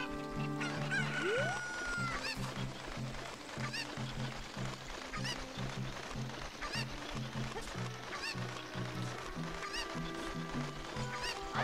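Chickens cluck in the video game The Legend of Zelda: Ocarina of Time, repeated clucks and a crow-like call sounding over steady, looping game music throughout.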